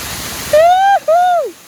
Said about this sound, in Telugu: లిటరల్లీ ఇది చాలా హైట్ నుంచి చాలా ప్రెషర్గా వస్తున్నది.